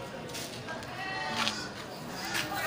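Wild forest goat bleating at the Grogol livestock market, a few calls rising over a dense crowd murmur and voices nearby.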